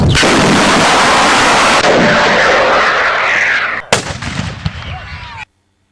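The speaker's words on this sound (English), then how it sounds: "the man pulls a string to launch the cannonball" A Civil War cannon fires a cannonball with a huge, sustained roaring blast that fills several seconds, then a second sharp crack and a fading rumble before sudden silence.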